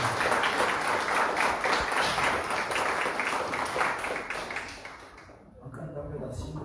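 A church congregation claps and applauds together at a worship service, a dense steady wash of clapping that carries on for several seconds before thinning out near the end, with voices mixed in.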